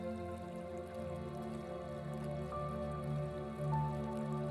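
Gentle, steady flow of river water with soft drips and trickles, continuous and even throughout, close but calm, no voices.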